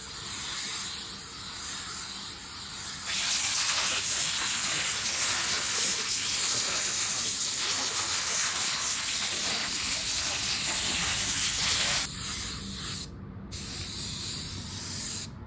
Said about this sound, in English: Let's shoot our color on our bumper.